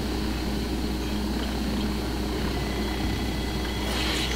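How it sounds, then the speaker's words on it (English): Enemy helicopters chasing in the video game Ghost Recon Wildlands, a steady low rotor and engine drone holding at even, moderate loudness throughout with no voices. "Helicopters behind us."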